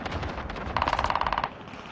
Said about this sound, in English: I don't even understand where this fucking guy is shooting from.